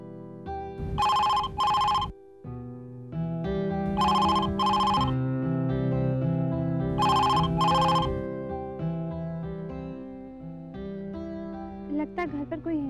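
A telephone rings unanswered indoors, with three bursts of a bright electronic bell pattern separated by pauses, set over steady background music that continues throughout.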